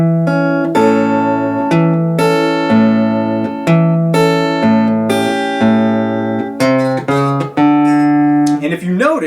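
An acoustic guitar plays two A measures of a song in fingerpicked style, steady plucked bass and treble notes in a bouncing rhythm, close and clear with no voices.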